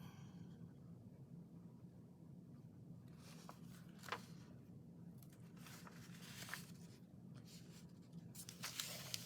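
A pen writes on the paper of a new journal, a soft scratching and scraping of strokes with faint crinkles, close and quiet over a low steady room hum, with no talking.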